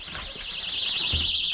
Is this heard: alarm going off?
yes